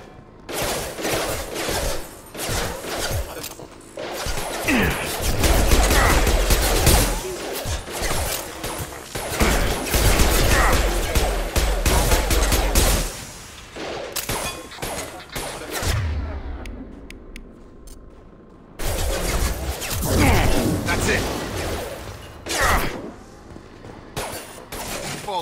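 Bursts of gunfire in Mass Effect 2 crackle on and off, dense volleys broken by short pauses, with crashes and whooshes of combat mixed in.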